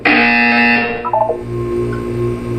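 A loud electronic buzzer from the Portal 2 video game blares steadily for about a second, then cuts to a shorter stuttering tone over a low background hum, with no talking.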